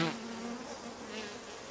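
Insects buzz around brightly colored flowers, a steady, faint drone of wings heard close with no other sounds.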